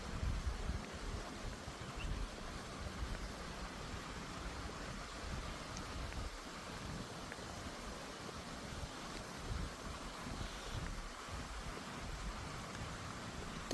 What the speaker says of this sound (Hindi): यहाँ पे किसी के घर के यहाँ पे एक वाटरफॉल उन्होंने बनाया हुआ है, तो उसकी आवाज़ आ रही है